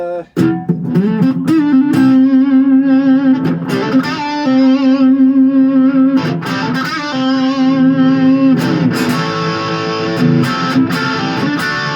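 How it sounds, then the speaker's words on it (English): Sustained electric guitar chords and single notes from a single-pickup Les Paul Custom copy ring out through a Blackstar ID Core 20 amp, with a spacious reverb tail and faint echoing repeats between phrases. "I'm just going through the Black Star ID Core 20, a little bit of reverb, slight bit of delay"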